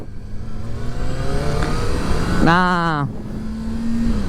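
A JTX 25R motorcycle on the road in Japan carries a continuous engine drone with a sharp rev rising and falling in pitch near the middle, while a rider talks over it.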